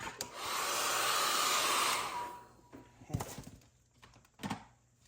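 A heat tool blows steadily and close for about two seconds while drying paint and tape on a mixed media painting, then cuts off, followed by soft tapping and handling noises.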